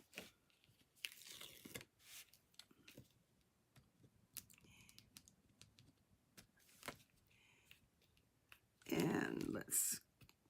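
Peeling the backing off a strip of tear and tape with the pointed end of a pick tool, heard as quiet clicks and light scratching, then a short, louder tearing rasp near the end.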